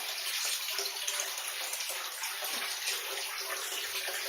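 Cold spring water pouring continuously into enormous wash tubs outdoors, a steady rushing splash that stays loud and even throughout, with no voices.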